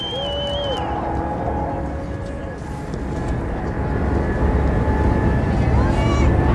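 A Boeing 787 Dreamliner on its first flight passes overhead, a broad rumbling roar that swells louder toward the end, with crowd voices and chatter over it.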